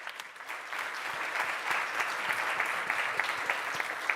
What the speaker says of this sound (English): And please give a round of applause to Nicoletta Jacobacci.